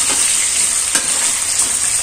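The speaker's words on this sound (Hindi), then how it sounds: "जिरे चांगले तडतडले की बटाटा टाकून चांगल्या पद्धतीने परतून घेऊया।" Potatoes frying in oil with cumin seeds for sabudana khichdi, a loud steady hiss of sizzling oil broken by a couple of faint stirring scrapes, close up.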